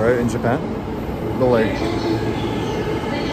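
A train at a station in Tokyo, Japan, with a steady rumble and brief squealing tones, heard under a person talking nearby.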